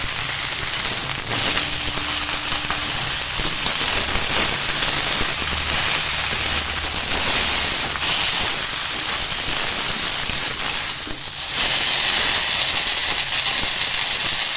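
Vegetables, including brinjal, broccoli and potato, frying in a pan, a loud steady sizzle and hiss throughout with faint clinks, with no voices.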